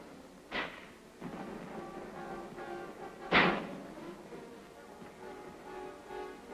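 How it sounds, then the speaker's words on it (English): Korean War mortars fire in combat alongside an artillery barrage, with two sharp, distant booms a few seconds apart over a low rumbling background. "the mortars lend their explosive voice to the artillery pounding"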